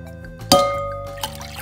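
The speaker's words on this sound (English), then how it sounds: "So first we're gonna add water into our bowl." Water poured from a measuring cup into a bowl for a slime kit, a short splashing gush with a faint clink of glass, close and alone.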